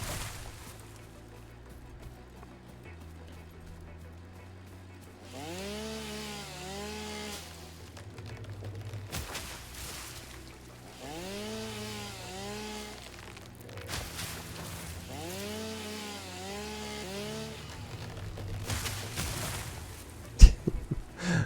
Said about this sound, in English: Yeah, that's one thing with the chainsaw that I like.